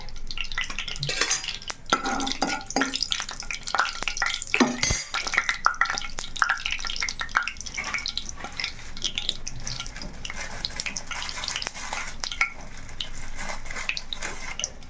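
Cinnamon, cloves and cardamom frying in hot oil for an egg curry, a continuous crackling sizzle punctuated by frequent scraping and clinking of a spatula stirring in the pan, close and fairly loud.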